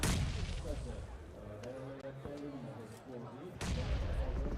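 Grenade bombardment in a PUBG Mobile esports match, with a heavy blast and a burst of dense noise at the start, a tonal stretch in between, and another strong blast near the end, all under a steady bed of game noise.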